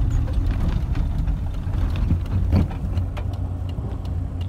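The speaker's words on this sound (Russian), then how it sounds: "Видите, сразу машина аккуратно едет, потихонечку." A car rolls slowly past on an asphalt village road in Kyshtovka, a continuous low engine rumble that swells slightly midway, with no voices.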